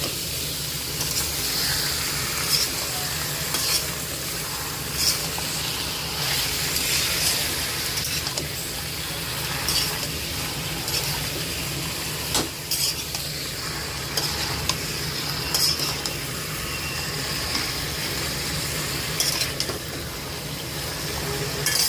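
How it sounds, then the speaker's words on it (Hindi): Chicken frying with onion in a pan gives a steady loud sizzle, broken by the scrape and clink of a spoon stirring now and then, with no talking throughout. "पहले चिकन को भूनूंगी"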